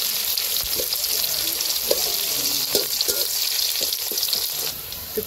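Onions sizzle in hot oil with black cumin in a Bangladeshi village kitchen, a steady close hiss broken by soft stirring clicks and scrapes throughout.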